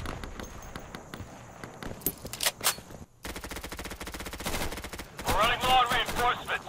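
Gunfire in the video game Insurgency: rapid automatic bursts and single cracks, fairly close, running through most of the clip, with a brief pause and other game sounds near the end.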